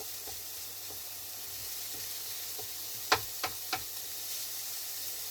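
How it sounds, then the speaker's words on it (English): Minced meat sizzling steadily in a frying pan while being broken up, a constant close hiss with a few sharp knocks and scrapes of the utensil against the pan, no talking. "Now I've got to break up the mince like I did the last time."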